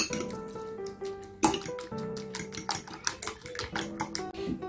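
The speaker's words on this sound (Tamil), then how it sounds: "இதை வந்து நம்ம நல்லா பீட் பண்ணிக்கணும்." Egg mixture for a bread omelette being beaten briskly in a bowl: rapid, steady clinking and tapping of a utensil against the bowl with a wet, sloshing edge, close and continuous.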